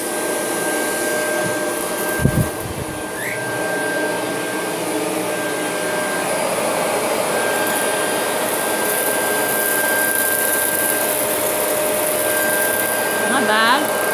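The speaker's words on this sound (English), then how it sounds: "I just want to show you guys how my shark vacuum works on the bird mess" A Shark professional vacuum cleaner sucking up bird mess runs as a loud, steady motor drone with a constant high whine, interrupted briefly by a knock near the start, while a person speaks faintly underneath.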